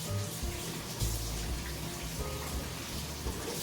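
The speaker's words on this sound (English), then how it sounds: "Rinse that sticky stuff off my hand." Tap water runs steadily into a kitchen sink while sticky bread dough is rinsed off a hand, a soft continuous splashing and trickling at close range with no talking.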